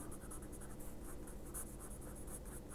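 Continuous soft scratching of a brush writing calligraphy characters on paper, steady and close with a faint rhythmic texture and no talking.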